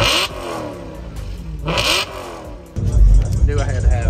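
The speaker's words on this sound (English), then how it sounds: "when I first saw the car, big V8, the way it sounded" Big V8 car engine revving at a car enthusiast meet, loud throaty surges rising and falling, with people talking over it.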